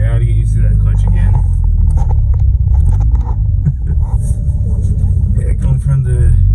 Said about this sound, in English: Okay, so going for the first drive.